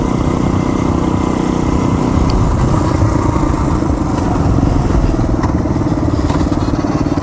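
A motorcycle engine running loud and close, a steady throbbing roar held at high revs throughout, with no voices over it.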